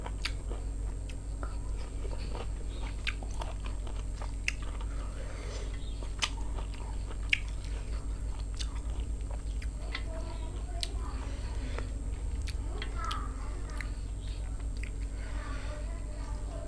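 Someone chewing tender young galangal root, with soft repeated crunchy bites and squishy mouth sounds scattered over a steady low background hum, no clear speech.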